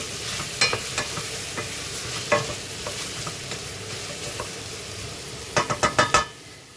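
Apple filling with rum stirred in a bowl: a spoon scrapes and taps against the sides in a steady rhythm, close by, ending in a quick burst of several sharper knocks.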